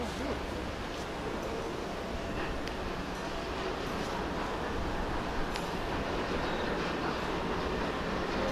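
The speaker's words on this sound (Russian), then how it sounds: "Откуда-то звук идет, как будто какой-то поезд или вагонетки." A low, steady rumble like a distant train or mine carts rolling, continuous and faint, with no clear breaks, heard in the Inkerman cave monastery in Crimea.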